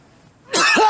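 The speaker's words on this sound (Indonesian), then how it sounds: "Batuknya aneh banget. Kayak orang marah." After a quiet moment, a person lets out a harsh, forceful cough that sounds strange and angry. It comes as one loud, close burst that rasps toward a voiced, shouted edge.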